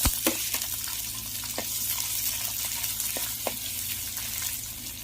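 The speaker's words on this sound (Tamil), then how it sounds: "எண்ணெய் காஞ்சிச்சு, குடமிளகா போட்டு நம்ம கொஞ்சம் ரோஸ்ட் பண்ணி எடுத்துக்கலாம்." Capsicum roasting in hot oil in a clay pot, a continuous soft sizzle with a few sharper crackles and pops scattered through, close and fairly quiet with no talk.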